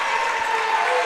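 A basketball crowd in a school gym roars and applauds steadily at a boys' game, a brief, loud, sustained wash of cheering with no pauses.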